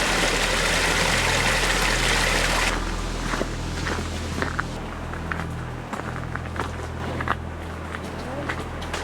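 A small creek outlet in a New Zealand forest rushes loudly at first, then drops back to a fainter trickle as footsteps crunch nearby along the trail.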